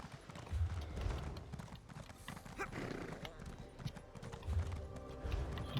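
Horse hooves clip-clopping in the video game Elder Scrolls Online, a battle horse's repeated thudding steps in bursts, with occasional neighs and a voice speaking over it.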